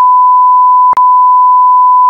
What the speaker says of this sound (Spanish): ¿No te voy a meter un pitido?